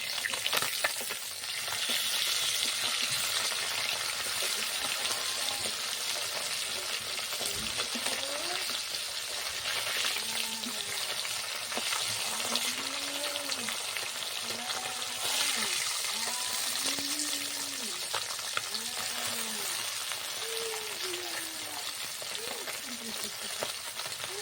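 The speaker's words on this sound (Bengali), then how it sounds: "মাছগুলো উল্টে পাল্টে ভেজে নেব।" Bata fish sizzle and crackle steadily in hot oil as they are turned over in the pan, a continuous frying hiss with occasional stirring clinks and a faint voice in the background.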